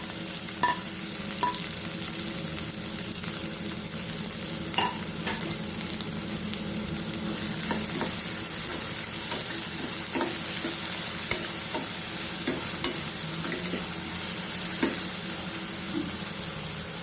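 Chopped onions frying in a pan, a continuous sizzle with repeated scraping stirs and light utensil taps throughout, close and steady with no voices.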